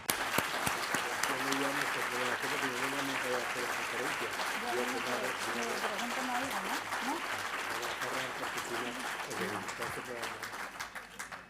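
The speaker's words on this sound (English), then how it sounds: "A round of applause to all of them." Audience applause at a gathering honoring survivors and descendants of exiles, continuous clapping heard at moderate distance while voices murmur underneath throughout.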